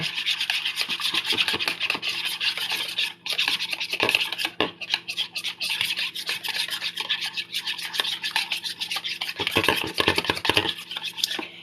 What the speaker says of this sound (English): I got my 1 egg cracked with my melted butter, and I'm just going to whisk it as I go